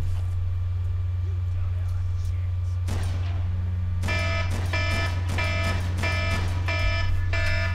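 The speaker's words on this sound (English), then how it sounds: "that's our alarm for this episode" In-game alarm from the Red Faction shooter: repeated bursts of stacked electronic tones begin partway through and pulse in a steady on-off rhythm over a constant low hum, loud and close.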